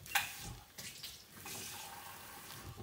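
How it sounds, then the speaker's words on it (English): Water poured into a cooking pot while making an Egyptian breakfast runs as a steady, close splashing stream after a brief clatter, continuing for a few seconds without speech. "Now what I like to do is add some water"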